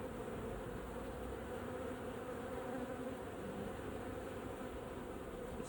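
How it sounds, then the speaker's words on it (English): A steady, dense insect drone fills the air at a beehive entrance as many wasps hover and dart about, the buzzing continuous and even, fairly close, with no voices present. "See a few wasps turning away."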